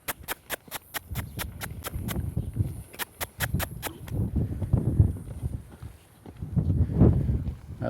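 A loping horse with a rider sets down a quick, regular run of sharp hoofbeats at close range, followed by softer, irregular thuds and low rumbling movement.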